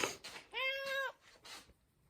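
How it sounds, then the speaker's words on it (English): A single drawn-out, whiny cat meow, close and fairly quiet, with soft rustling before and after. "still got the whiny cat here."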